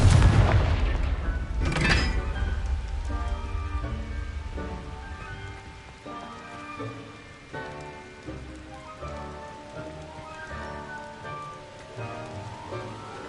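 A Confringo fire spell explodes in Hogwarts Legacy, opening with a loud, close blast that fades into a crackling, rain-like rumble and a scatter of lighter pops as it dies away.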